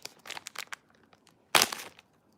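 Crinkly plastic pencil packaging being handled and torn open up close, a few quick rustles followed by one loud ripping crunch, then quiet.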